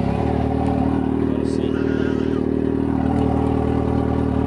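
A Yamaha XJ6 motorcycle engine starts and runs steadily nearby, a continuous low idling rumble with some mechanical clatter throughout.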